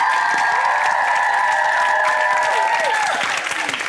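Loud applause and cheering from a studio audience at a martial arts challenge show, dense and sustained throughout, with a steady high tone running underneath.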